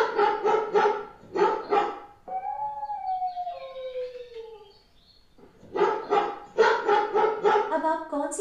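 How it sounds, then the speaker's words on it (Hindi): Recorded dog barks and a drawn-out howl played through an Alexa smart speaker, a quick run of barks, then a long wavering howl, then more barks, loud and close. "कुत्ता।"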